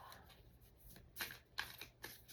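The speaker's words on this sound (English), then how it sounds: "Just want to shuffle them really good." A deck of cards being shuffled by hand in a quiet room, giving a few brief riffling bursts of papery flutter, soft and close, with no voices.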